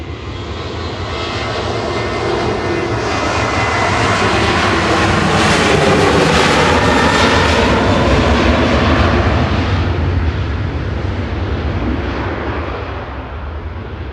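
A Ryanair jet airliner departing Manchester Airport for Berlin, its engine roar rising and swelling to a loud sustained peak before slowly easing off as it climbs away, with no talk over it.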